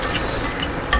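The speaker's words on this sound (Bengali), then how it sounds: "মাংসের পেঁয়াজ মোটামুটি ভাজা হয়ে গেছে" Onions frying for a meat curry crackle in a bright, dense sizzle, close and fairly loud, with brief stirring clinks near the start and end.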